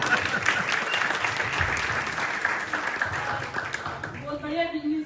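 Applause from a gathered audience fills most of the moment as a dense, continuous patter of clapping, tapering off as a voice begins speaking at the end.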